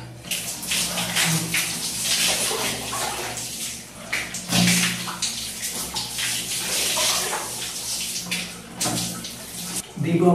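Water poured and splashing during a bath in a bathroom, a steady wash of water sound running nearly throughout with brief louder pours, and speech-like sounds faintly mixed in.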